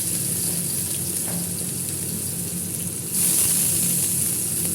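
Chopped large onion sautéing in hot oil in a pan for an egg gravy, a steady soft sizzle with a faint hiss that brightens near the end, no talk.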